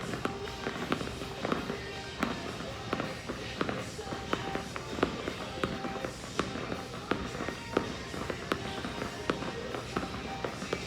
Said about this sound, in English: Make it kind of like snappy so you get that ball popping off your hand onto the ground.